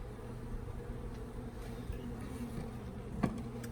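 Honey bees drone steadily throughout an open beehive inspection, a continuous low buzzing hum heard up close without speech, with a brief knock near the end.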